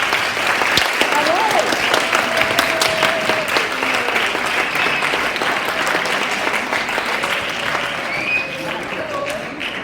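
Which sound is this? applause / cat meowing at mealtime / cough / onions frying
applause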